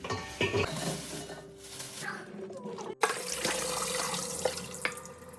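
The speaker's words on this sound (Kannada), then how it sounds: "ತೋಟದಿಂದ ಬೆಂಡೆಕಾಯಿ ತಂದಿದ್ದಾಳೆ, ಸೊ ಇವಾಗ ವಾಶ್ ಮಾಡ್ಕೊತಾ ಇದ್ದೀನಿ." Fresh okra from a farm is rinsed under running tap water, with splashing and gurgling, uneven streams and a few light knocks against the sink or bowl.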